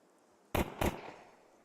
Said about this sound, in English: First shots fired towards Wicadia